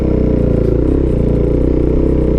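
A motorcycle engine roars loud and close as the bike lifts into a wheelie, a steady throbbing drone with a strong low rumble and no voices.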